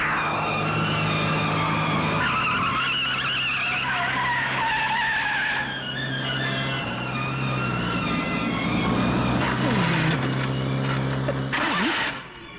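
A car in a 1992 Hindi film brakes hard and skids to a stop, a long harsh tyre screech over a rumbling engine that cuts off abruptly at the end, with no talking.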